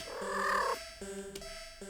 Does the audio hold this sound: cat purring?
yes